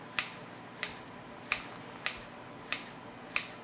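Kitchen scissors snipping through sticky seaweed-wrapped glass noodles, six crisp evenly spaced cuts, close and clear with no talking.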